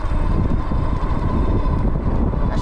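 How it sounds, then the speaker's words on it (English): Loud, steady wind buffeting the microphone while riding a Wallke H9 AWD dual-motor ebike outdoors in the countryside, a continuous low roar with no break for the whole stretch. "Woo, windy."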